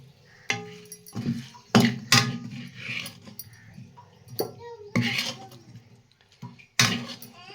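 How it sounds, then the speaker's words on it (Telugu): Mutton fry served onto a plate, with scattered sharp clinks and scrapes of a utensil against dishes, some louder knocks, and short pauses between them. "దీన్ని ఒక ప్లేట్లో పెట్టేస్తాను ఇప్పుడు, ఫ్రై మొత్తాన్ని."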